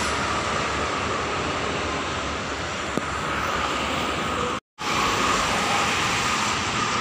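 An Argo Dewaruci passenger train passes beneath a toll-road flyover, a loud, steady rumble and rush of wheels filling the whole stretch, briefly cut off by a short gap before resuming.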